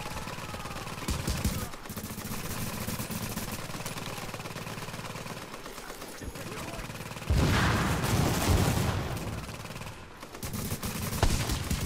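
Gunfire in The Division during a Times Square firefight, bursts of automatic shots over a dense, continuous battle din with a louder stretch of fire toward the end; voices talk over it.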